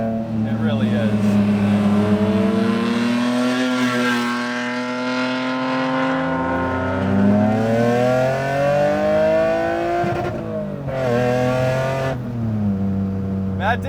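A BMW E30 fitted with a Euro S50 inline-six revs toward about 7,300 rpm, its rising and falling engine note sweeping up and down repeatedly under a voice talking over the drive.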